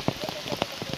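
Steady rain pours along a road in the rainy Malnad hills on the way to Yana, a dense close hiss with a few louder spattering bursts throughout.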